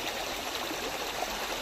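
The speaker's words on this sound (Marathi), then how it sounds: "आता उसाव चाललंय पाणी" Irrigation water flows through a sugarcane field with a steady, soft rushing and trickling that stays even and unbroken throughout. No one speaks.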